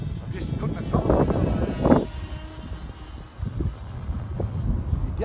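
E-flite Convergence VTOL model plane flying under throttle on a maiden flight in howling wind: a distant motor drone buried in wind noise, rising and falling, with people talking over it.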